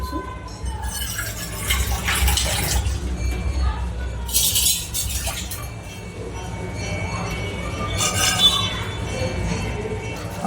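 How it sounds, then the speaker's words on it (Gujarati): Water is poured into a pot for Kathiyawadi-style ragi halwa in short splashing bursts over a steady low background hum, with a clink of metal now and then. "એટલું હું પાણી નાખું છું."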